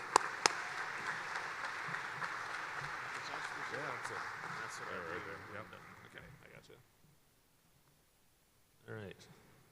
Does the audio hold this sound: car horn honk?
no